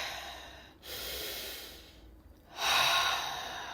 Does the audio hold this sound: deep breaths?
yes